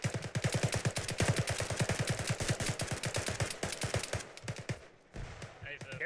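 Heavy automatic fire from a big gun in the Arma 3 military game comes as a fast, steady stream of loud shots that runs for several seconds, then thins out into scattered bursts.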